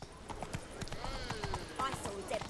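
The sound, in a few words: horse hooves galloping in a video game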